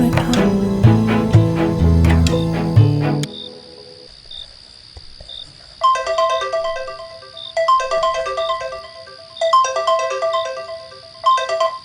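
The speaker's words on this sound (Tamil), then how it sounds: "ஏய் ப்ளீஸ்டா, ஃபோன் எடுறா." A phone ringtone plays in repeated melodic bursts, loud and close, after a few seconds of music at the start, with a steady high insect-like chirp running underneath.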